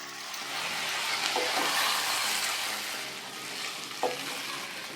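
Basmati rice being roasted and stirred in a pan, a dense continuous sizzle with scraping stir strokes and a small clack near the end, with no voices.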